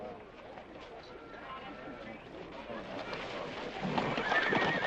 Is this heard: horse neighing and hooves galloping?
yes